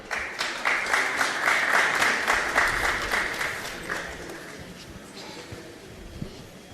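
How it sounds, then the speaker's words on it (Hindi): Loud applause from a crowd, with a rhythmic burst of clapping early on that gradually fades into scattered claps and a faint murmur. "जोरदार ताली बजाकर उनका सम्मान करें।"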